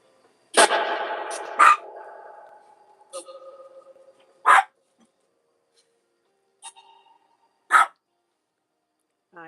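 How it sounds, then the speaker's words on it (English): A dog indoors gives a series of sharp, close barks: a loud burst with a short whine at the start, then single barks spaced a second or two apart, with quiet gaps between. "I think it's the spirit box making her bark."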